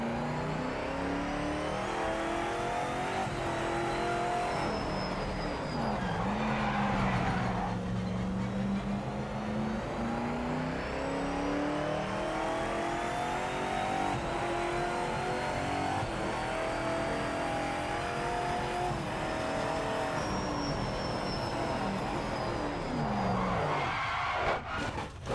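Race car engines in the PC racing game PMR, loud sustained revving that climbs and drops through gear shifts, with occasional tyre skids over the continuous engine note.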